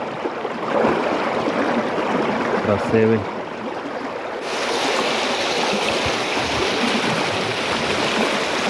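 Steady rushing of flowing water fills the scene, with a brief spoken word partway through and a short rattling knock.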